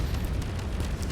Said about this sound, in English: I fire the missiles at him. Look at that missiles go.